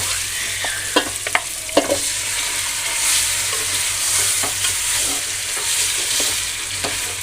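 Chicken is stirred into a sizzling chicken biryani mixture in a pan, with a continuous frying hiss and several sharp scraping clicks of the spoon early on.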